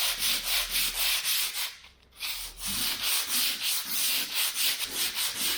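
Mirka Mirox P80 sandpaper rubs over Volma plaster cornices in steady back-and-forth strokes, close and scratchy, with a brief pause before the rhythmic sanding resumes.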